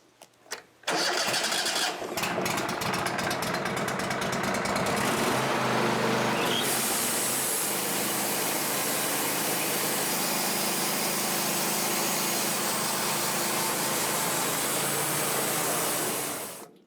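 A sawmill engine cranks briefly, catches and roars to life, then runs steadily and loudly at a constant pitch before cutting off at the end.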